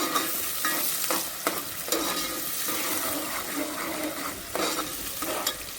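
Onions fry in a pan for bangda fish curry, a bright continuous sizzle broken by repeated scraping stirs at an uneven rhythm, fairly loud and close.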